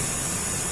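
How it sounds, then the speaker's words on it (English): Steady broadband hiss of oxygen flowing through a mask microphone and out a speaker in a flight simulator, continuous and even with no pauses or voices. "that's the sound of oxygen flowing through the oxygen mask microphone and through the speaker"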